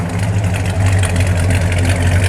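A 1964 Dodge Polara 500 with a 426 Street Wedge V8 and hydraulic lifters idles steadily nearby, a low rumbling throb with an even, continuous rhythm and no talking.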